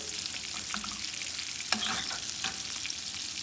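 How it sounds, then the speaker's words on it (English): Steak frying in a pan, cooked to medium rare on its second side, giving a steady close sizzle with a few brief louder pops and no talk. "our steak is getting evenly cooked on the second side"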